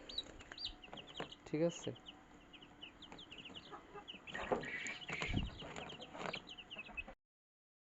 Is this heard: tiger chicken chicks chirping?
yes